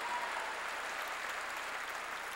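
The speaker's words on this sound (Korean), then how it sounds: "깨달은 사람만 박수 치는" Church congregation applauding to glorify God during a Korean sermon, a steady dense wash of clapping filling the room without a break, with no voices.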